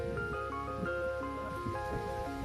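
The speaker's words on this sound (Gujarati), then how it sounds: "વરસાદ સારો આવે" Steady rain patters on a farm among guava and papaya trees, with scattered drips, under a constant tonal hum.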